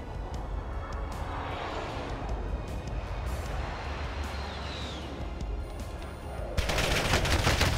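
Video game gunfire rattles in rapid, dense bursts that layer over a steady droning background, growing louder and harsher near the end.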